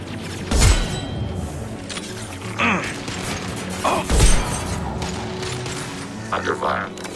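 Gunfire strikes the player's shields in Mass Effect 2, landing as a few separate heavy metallic impacts and clanks spaced seconds apart over a low, steady mechanical background.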